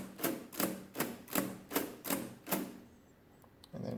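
Keys being punched one after another on a Comptometer 3D11 mechanical calculator: six sharp, evenly spaced mechanical clacks, loud and close, then a quiet pause with a brief low rumble at the end.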